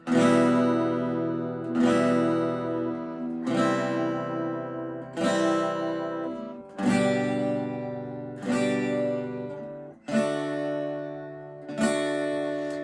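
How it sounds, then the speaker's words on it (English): Acoustic guitar strumming chords, two strums per chord: steady, evenly spaced ringing strums, each chord struck twice and left to sustain, close and clear with no voices. "so you could do 2 strums per chord as well,"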